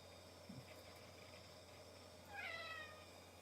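A cat gives a single short, faint meow against a quiet background hum.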